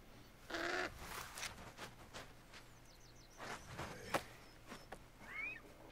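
Senu the eagle from Assassin's Creed Origins, set in ancient Egypt, gives a few short, high screeching calls amid busy game ambience and scattered footstep-like sounds.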